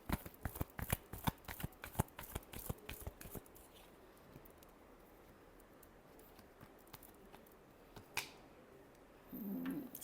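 Tarot cards are shuffled in a quick burst of crisp riffling snaps, then a quiet pause with a few faint clicks and a soft rustle near the end.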